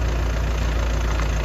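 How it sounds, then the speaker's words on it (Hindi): A Mahindra XUV 3XO MX3 diesel engine idles steadily and close up, a continuous low rumble with a faint knocking texture and no voices. "मैं गाड़ी इसलिए भी चालू करके रख रहा हूँ क्योंकि आवाज़ आप सुन सकते हैं।"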